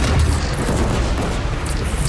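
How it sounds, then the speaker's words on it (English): Cannon fire in the video game Horizon Zero Dawn during a battle with a bandit clan at a bridge, a continuous loud booming barrage with heavy low-end rumble and no voices. "They only have one cannon!"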